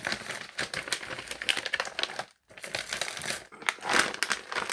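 Stamp folders being rifled through on a shelf, with dense rustling, crinkling and tapping of plastic and card in quick bursts, close by, and one short pause partway through.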